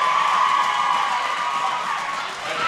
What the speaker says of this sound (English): Very loud crowd today.